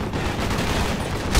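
Heavy sustained gunfire from the Call of Duty Black Ops campaign, a dense wash of overlapping shots and explosions at steady loudness, ending in a sharper burst.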